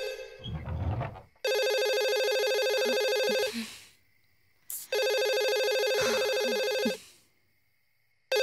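A telephone rings indoors in two long electronic bursts separated by a short silence, fairly quiet and clean, with a brief rustle before the first ring.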